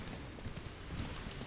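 Faint, distant hoofbeats of a horse galloping in The Witcher 3: Wild Hunt, a soft continuous rumble of rapid footfalls mixed with light wind-like noise.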